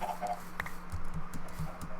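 Quiet clucking from many video game chickens on a farm, short irregular calls spread over a low steady hum.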